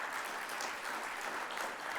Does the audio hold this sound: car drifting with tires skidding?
no